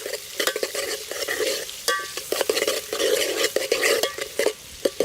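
Onions frying with cumin and green chillies for a goat head curry are stirred in the pan: repeated scraping strokes of a utensil against metal over a steady sizzle, close and without talk.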